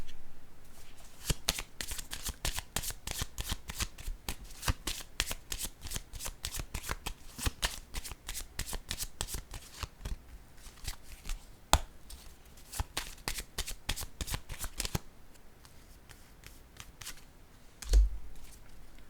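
A deck of tarot cards being shuffled close up: rapid crisp riffling flicks run continuously for about fifteen seconds, then a pause and a soft thump as the deck is set down.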